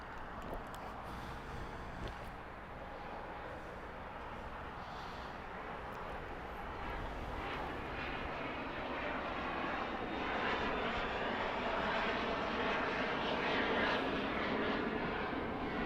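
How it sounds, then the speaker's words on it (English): An American Airlines Airbus A321neo jet departs from runway 25 left at Los Angeles International Airport, a fairly faint, distant roar that builds slowly and steadily over the whole stretch with no voices. "departure American 27 left. With the Neo."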